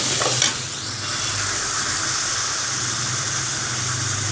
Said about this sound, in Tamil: இதையும் இது கூட நல்லா வதக்கி விட்டுக்கோங்க.